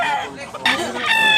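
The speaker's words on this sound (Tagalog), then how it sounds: "Klaseng manok." A two-year-old imported high-station gamecock rooster in Tabunok, Talisay, Cebu gives a short, loud crow close by, rising sharply midway through, with a voice talking around it.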